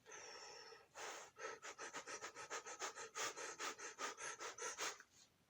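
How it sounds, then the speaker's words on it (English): Quick, rhythmic breaths drawn through a snorkeling mask modified with one side closed and a hole cut in the other, about twenty close, airy sniff-like pulses in a steady run, loud and alone. "Let's find out how difficult it is to breathe through this thing."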